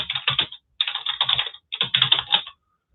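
Bursts of typing on a computer keyboard, close and crisp, in three quick runs of keystrokes separated by short pauses, with no voices.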